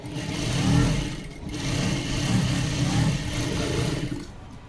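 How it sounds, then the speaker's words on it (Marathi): A sewing machine runs steadily while stitching piping onto a princess-cut blouse, giving a continuous close mechanical whir with a rapid rhythmic motor pulse and slight speed swells. "बघा अशी काही मी वरून शिलाई करते पायपिंग मस्त एकदम छान येते"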